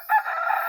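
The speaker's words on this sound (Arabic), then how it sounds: "ولما أخيرا سمعت صوت الديك كنت خلاص قررت هعمل إيه" A rooster crows once as a sound effect in a narrated Arabic audio story, a short, clear, fairly close call standing alone without any voice over it.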